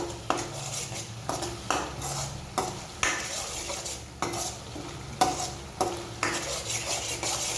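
A spoon stirs red chili, coriander-cumin and turmeric powder through ridge gourd in a pan, scraping in rhythmic strokes about twice a second over a faint sizzle.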